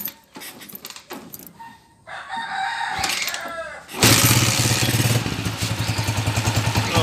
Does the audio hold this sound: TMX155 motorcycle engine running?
yes